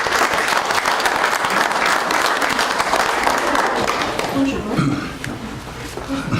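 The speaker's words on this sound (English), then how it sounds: "another round of applause" Audience applause at a school board of trustees meeting, a steady dense clapping that carries on for several seconds and then thins and fades toward the end, with a few voices and light laughter mixed in.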